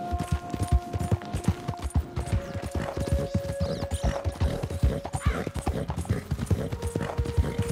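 Hooves of a horse in a video game beat out a fast, rhythmic gallop, up close and in the foreground, and the mechanical clip-clop runs unbroken for several seconds.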